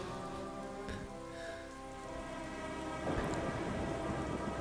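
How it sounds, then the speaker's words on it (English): Rain pours steadily in the video game Star Wars Galaxies, a continuous dense patter with faint low rumbles and a slight swell near the end, with no speech. "the rain is certainly not helping visibility"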